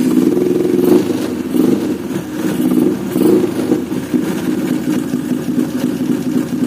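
A Yamaha 135LC motorcycle engine with a newly fitted carburetor and electric starter runs steadily up close, its mid-pitched putter swelling in a few light revs over a constant idle.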